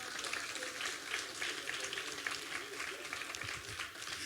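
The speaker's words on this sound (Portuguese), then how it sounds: "Vamos aplaudir o nosso Deus" A church congregation claps for God during a sermon, a faint, continuous wash of many hands clapping, fairly distant and low in level, with voices mixed in beneath.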